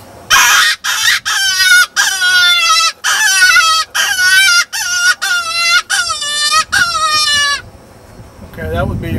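A hand-blown predator call imitating a cottontail rabbit in distress gives a rapid series of loud, wavering, quivering squeals in close succession, heard up close. The sequence ends in a short rustle.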